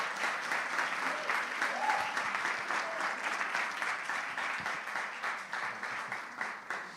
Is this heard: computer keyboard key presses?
no